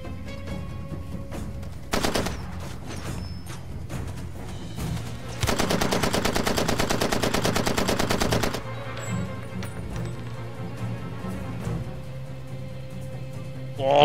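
A small gun fires in the video game Far Cry 2: a few isolated sharp shots, then a dense automatic burst lasting about three seconds, with a steady low game ambience underneath.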